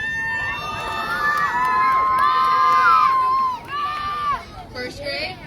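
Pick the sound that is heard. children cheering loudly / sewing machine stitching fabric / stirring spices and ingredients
children cheering loudly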